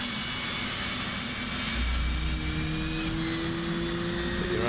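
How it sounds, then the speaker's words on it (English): An F/A-18 jet engine spools up during a cold start in a flight simulator game, a rising whine with steady tonal hum that grows louder and higher, with no voices over it. "you get temperature rising, and the engine will spool up."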